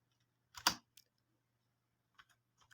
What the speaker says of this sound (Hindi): तो यहाँ पे मैं टाइप कर लेता हूँ